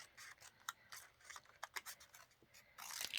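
Scissors snip straight across a paper sentiment for a handmade card, making a quick series of faint, close, crisp cuts ending in a longer scraping swipe.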